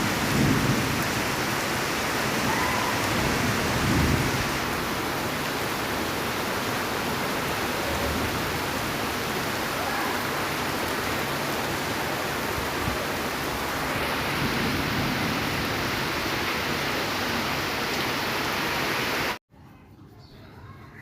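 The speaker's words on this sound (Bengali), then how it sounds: "প্রচণ্ড বৃষ্টি শুরু হয়েছে বাইরে।" Heavy rain pours outside as a dense, steady roar with rumbling thunder underneath, loud and unbroken for about twenty seconds before cutting off abruptly.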